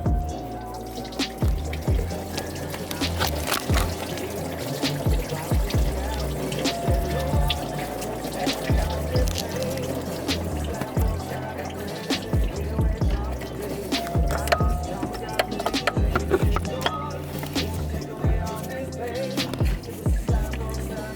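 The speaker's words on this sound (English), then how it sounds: "Crack this loose and the water just is flowing out." Coolant water pouring steadily out of an engine on a 2008 Toyota Sienna during a water pump replacement and coolant flush, a continuous close trickle and splash with scattered drips and clinks throughout.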